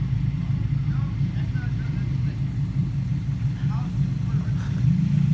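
A car engine rumbles loudly and steadily throughout at a Toyota car show, a deep throaty exhaust drone with slight swells, close by, with faint voices in the background.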